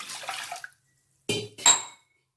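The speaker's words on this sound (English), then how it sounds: "I am adding 2 tumblers of water into it." Water poured from a tumbler into a pressure cooker for South Indian sambar, heard as two short close bursts of splashing liquid against metal after a brief quieter stretch.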